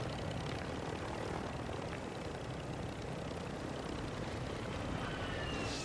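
A Call of Duty Warzone helicopter gives off a steady, unbroken rotor and engine drone that fills the whole stretch at an even level, with no voices over it.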